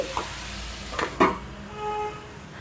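Capsicum frying in a covered pan over a medium flame, a faint steady sizzle broken by a few quick clinks and stirring scrapes, close by and with no voices.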